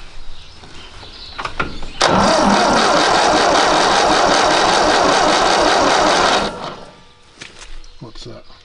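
A Ferguson TE20 tractor engine cranks over on the starter with the throttle open during a compression test, a loud steady rhythmic churning for about four seconds, preceded and followed by brief talk and handling noises.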